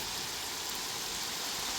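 Steady, heavy downpour hissing without a break, a dense broadband wash of rain with no voices, keeping an even level for the whole stretch.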